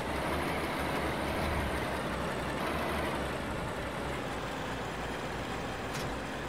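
A tractor pulling a trolley in Farming Simulator 19 drives with a steady, low engine drone and rumble at constant loudness, without talk.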